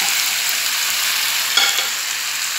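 Chicken with capsicum frying in a pan makes a loud, dense, continuous sizzle up close, with a brief scrape of stirring partway through; no voices.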